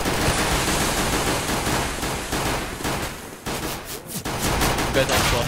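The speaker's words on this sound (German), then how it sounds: "ich krieg wieder einen Schuss rein" Dense gunfire in Counter-Strike: Global Offensive, heard as steady loud bursts of shots hitting the player, with a brief drop partway through before the fire picks up again.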